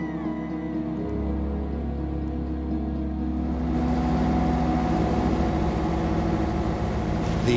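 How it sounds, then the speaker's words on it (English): A boat engine at sea in an ocean dead zone drones steadily, low and throbbing, growing slightly rougher and louder partway through, with no other sounds. "The only sound is the boat's engine."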